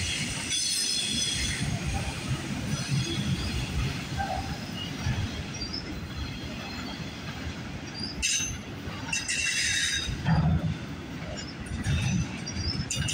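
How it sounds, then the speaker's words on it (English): A long CN freight train rolls past steadily at Burlington Junction in Burlington, Ontario, with continuous rumbling wheels, rail clatter and occasional squeals, loud and close throughout. "Be one long train there."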